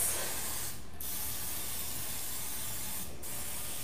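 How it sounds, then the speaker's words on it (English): Two short hissing bursts of a kitchen oil spritzer spraying onto a waffle maker grill plate, each under a second and spaced a couple of seconds apart over a steady low background. "I'm gonna spray this again. I'm using our kitchen spritzer."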